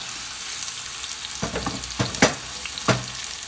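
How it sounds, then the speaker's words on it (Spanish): Onion and tomato frying in oil in a pan, a steady sizzle with a few sharp stirring clatters and scrapes, no voices. "en un sartén le agregamos un poco de aceite y vamos a agregar la cebolla, el jitomate"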